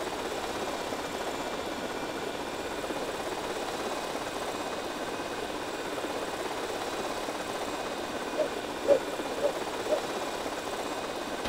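A small RC helicopter in GTA Vice City drones with a steady, even engine buzz at moderate level, with a few light clicks near the end and no talking over it.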